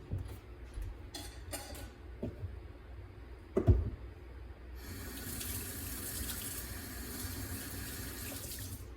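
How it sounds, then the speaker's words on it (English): Hands washed under a running tap to rinse off sticky orange juice, with scattered handling knocks and clatter first, then a steady close water splash filling the second half. "I'm gonna wash my hands because it's sticky."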